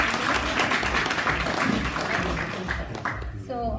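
Applause from an audience in an anniversary event hall rises as a dense wash of clapping, mixed with voices, then fades away near the end as the room quiets.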